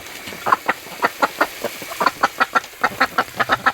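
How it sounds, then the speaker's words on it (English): Ducks or chickens splash and call noisily in water on a cold, clear day, with a rapid series of loud quacks and clucks close by, repeating in quick bursts throughout without any talk. "the birds are going nuts in the water today"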